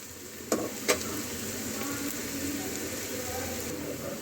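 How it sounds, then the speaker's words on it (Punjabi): Onions frying in a pan for paneer bhurji, a constant moderate sizzle with two quick utensil scrapes or taps near the start. "ਆ ਦੇਖੋ ਜੀ ਪਿਆਜ਼ ਸਾਡੇ ਭੁੱਜ ਚੁੱਕੇ ਨੇ"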